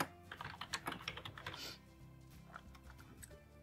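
Close clattery keystrokes on a computer keyboard as a comment is typed in a spreadsheet, a quick burst of taps followed by a few sparse presses under a faint background hum.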